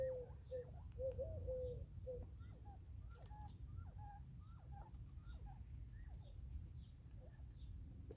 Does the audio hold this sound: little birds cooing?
yes